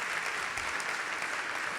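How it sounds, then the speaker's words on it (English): Audience applause at a Culture Moves Europe evening event, a soft, even patter of many hands clapping, faint and steady for the whole moment with no voices over it. "we'll give them a round of applause"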